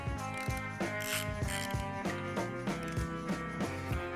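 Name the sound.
ratchet wrench tightening oil pan bolts on Mazda B2200 engine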